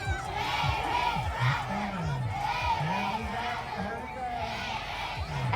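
Students at Bay Ridge Catholic Academy cheer and shout together on a walkathon day, a loud, dense crowd of young voices yelling in rhythmic bursts with chatter underneath.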